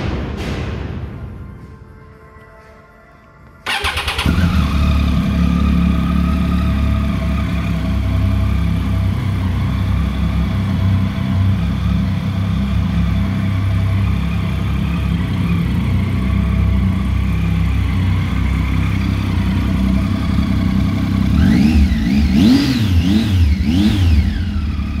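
A Triumph Tiger 800 XCx motorcycle cranks over and catches after a few seconds, settling into a steady close idle before a series of quick throttle blips rise and fall near the end.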